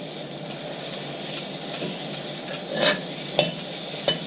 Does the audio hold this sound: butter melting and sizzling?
yes